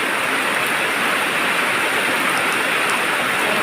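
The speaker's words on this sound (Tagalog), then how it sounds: "Nag-ulan na pud oh, sugas ulan oy." Steady, dense rain hisses continuously with no letup, loud and close throughout.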